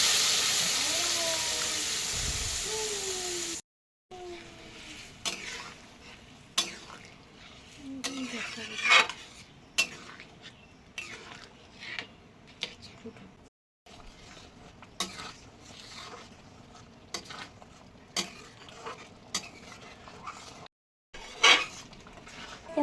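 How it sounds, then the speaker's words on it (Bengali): Egg tadka dal being stirred in a pan: intermittent metallic clinks of a spoon against the pan over a low steamy hiss, with a louder sizzle at the start and short pauses between stirs. "ভালোভাবে নেড়ে চেড়ে তারপর দিয়ে দেবো ভুজি করা ডিম"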